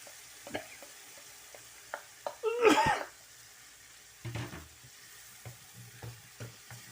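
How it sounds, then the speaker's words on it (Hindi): Daal lentils tipped into a hot pan give a short loud burst of sizzling and frying near the mic, followed by quieter stirring scrapes and spattering. "अब मैं दाल डालने लगी।"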